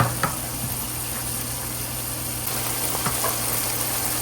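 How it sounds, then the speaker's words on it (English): Ground beef cooking with spices in a pan for a low-carb taco bowl, giving a steady, low broadband sizzle with a faint hum and a few soft clicks of utensils, no talk. "today I wanted to cook my spices first, then I will add my ground beef. Now this will cook by itself now."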